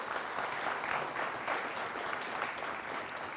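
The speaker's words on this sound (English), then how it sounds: "how about a nice round of applause for the All Saints Catholic Academy Phoenix." A tournament audience applauds the All Saints Catholic Academy Phoenix team, a brief, even burst of moderately distant clapping throughout with no voices on top.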